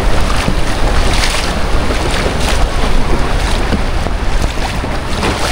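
A tour boat out on clear water, its engine and hull noise mixed with heavy wind buffeting and splashing, loud and steady throughout.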